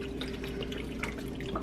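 Water pours steadily into a pot of potatoes already covered with chicken stock for soup. It is a soft, continuous splashing trickle with no talking.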